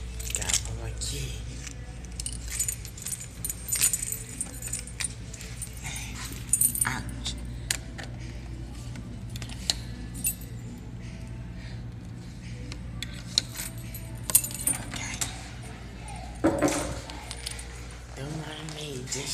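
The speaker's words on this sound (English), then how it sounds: "Got all my keys." A bunch of keys jangles in bursts in a college dorm room, with a person talking over the clinking.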